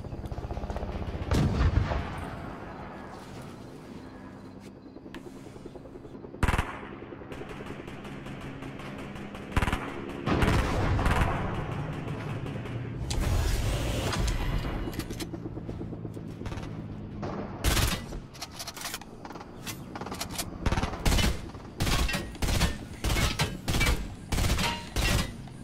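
Fortnite video game gunfire: loud, dense shots and booming blasts fill the scene, ending in a steady run of rapid, evenly spaced shots near the end.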